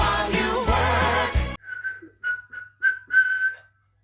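A person whistles a short tune in clear, separate notes after a burst of music cuts off, close and fairly loud.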